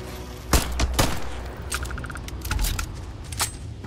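Gunfire in the video game Starfield comes in sharp, loud cracks and short rapid bursts, mixed with metallic mechanical clicks, and no one speaks over it.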